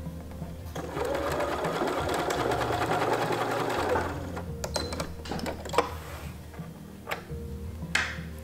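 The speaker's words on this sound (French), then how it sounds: "je vais venir sur 3 cm coudre vers l'extérieur du short" Sewing machine running a fast, even stitch along the fabric of a pair of shorts for about three seconds, then stopping, followed by scattered clicks and small handling sounds.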